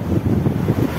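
Strong wind blows steadily across the mic at Laguna Beach in Dubai, a loud, continuous rushing roar with no voices.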